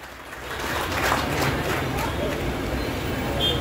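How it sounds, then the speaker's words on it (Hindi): Audience clapping at an Independence Day celebration held by a youth forum in Titagarh, a steady broad wash of applause from a crowd that stays loud for several seconds with some background chatter. "और जोरदार तालियां हो"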